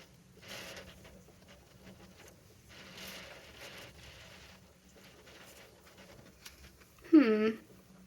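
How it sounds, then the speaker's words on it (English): Heavy rain comes down outside along with strong wind, a soft, muffled patter behind an indoor scene, with faint rustling and a short sharp squeak near the end. "Sorry if you can hear that rain, it's really coming down."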